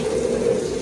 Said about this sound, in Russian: Ну и все это зальем горячей водой.